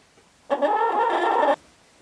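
A farmhouse chicken gives a single sustained squawk about a second long, close and clear against a quiet background.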